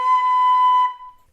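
A single sustained B natural on a flute, fingered with thumb, index and right pinky: one clear, steady tone held just under a second, then fading quickly, with no other sound.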